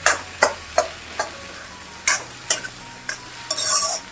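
Repeated scraping and clinking of a spatula stirring dry ingredients in a pan, in short regular strokes, close up, with a brief rustling burst near the end.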